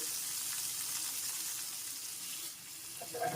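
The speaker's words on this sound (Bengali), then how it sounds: "এখন একটু নেড়ে চেড়ে ভেজে নিচ্ছি" Tomatoes with salt fry in a pan as they are stirred, giving a steady, fairly loud hiss with a brief clatter near the end.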